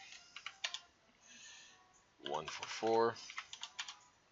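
Quick clicking keystrokes on a computer keyboard while entering Pokémon stats, with light scattered taps followed by a denser run of typing, close and clear, as a voice speaks over part of it.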